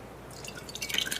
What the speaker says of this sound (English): I'm actually going to pour it into a jar so that you can see it there too